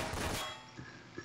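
A sharp burst of gunshots in Garry's Mod opens loud and close, then trails off into a fading tail with a couple of faint later knocks.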